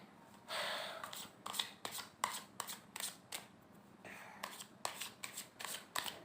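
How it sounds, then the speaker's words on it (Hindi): Tarot cards being shuffled and drawn from a deck, a series of crisp papery riffles and slaps in uneven bursts, close and fairly quiet with no talking. "अभी 2 कार्ड्स इससे और निकाल दें"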